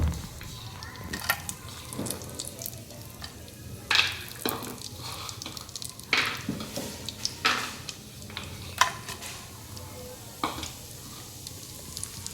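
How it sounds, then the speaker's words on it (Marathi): Semolina and dry fruits roast in a pan for besan ladoo with a steady crackling sizzle, punctuated by scraping stir strokes and light clinks of utensil on pan, moderately loud and close, with no talk. "मी आता रवा भाजून घेऊया आणि आपले सगळे ड्रायफ्रूट्स आपण ह्याच्यामध्ये जरा भाजून घेऊया"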